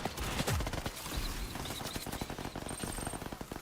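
Dense automatic gunfire in a shooter game, a continuous rattle of rapid shots with layered bursts overlapping, loud and steady throughout.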